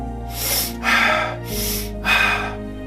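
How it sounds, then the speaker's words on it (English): Someone demonstrates rapid, deep, vigorous breathing, with four loud forceful breaths in a steady in-out rhythm, close up and alone. "The repetitive breathing more quickly and deeply, this kind of thing"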